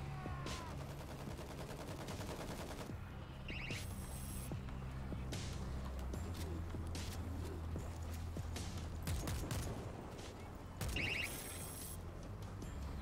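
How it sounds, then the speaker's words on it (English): An automated turret in the World War Z game fires sustained bursts of gunfire, with continuous rapid shots layered over a dense combat soundscape and brief mechanical clatters. "I set up an auto turret."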